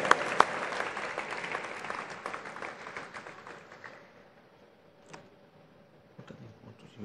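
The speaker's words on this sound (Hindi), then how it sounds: "A big hand, ladies and gentlemen." Audience applause at the inaugural ceremony of the IFFI 2021 film festival in Goa, a dense burst of many hands that gradually thins and fades to a sparse patter, with a few scattered claps near the end.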